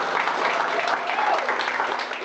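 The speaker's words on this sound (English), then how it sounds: "so a big round of applause for them." Audience members at a forum session applaud in a short, steady burst of many hands clapping together, fairly close and even in loudness.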